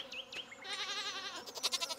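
Goats bleating in the farming video game Stardew Valley: a couple of short cries followed by a longer wavering bleat, clear and close against a quiet game background.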